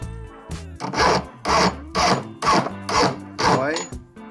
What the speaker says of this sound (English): So now I'll just be filing the edge